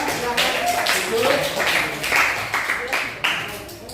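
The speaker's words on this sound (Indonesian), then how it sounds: "tepuk tangan untuk kelompok 2 yang duduk" A classroom group claps for group 2, a scattered burst of hand claps in several waves, moderately loud and slightly uneven, with voices murmuring underneath.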